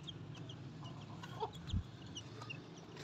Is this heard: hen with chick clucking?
yes